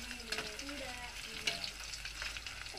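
Mutton chilli pieces sizzle in a pan while a spatula breaks them up and turns them, giving a steady, moderate frying hiss with intermittent scraping and stirring knocks, close and without talk.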